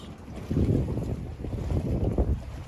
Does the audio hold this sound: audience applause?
no